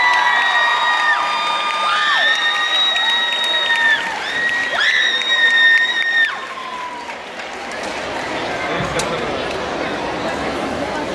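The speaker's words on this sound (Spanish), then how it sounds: "Un aplauso fuerte para los chicos de Puerto Rico, por favor." Crowd at an awards ceremony for youth teams: shrill children's shouts and cheers ring out for several seconds, then give way to broad, steady applause that continues to the end.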